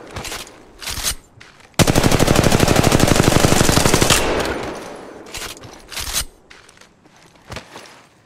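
Sustained automatic gunfire from Apex Mobile, a long rapid burst of evenly spaced shots lasting over two seconds, loud and close, preceded and followed by shorter single bursts, footsteps and in-game effects.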